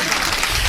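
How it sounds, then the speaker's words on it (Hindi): Audience applause at a Hindi poetry gathering, a brief dense burst of many hands clapping, loud and continuous. "तालियां उठाइए तो एक बार ढंग से तालियां उठाइए"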